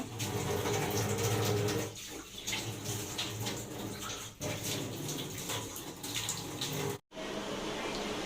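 Water runs steadily from a tap during household washing and cleaning, a continuous splashing hiss with small clatters and a brief cutoff near the end, heard close.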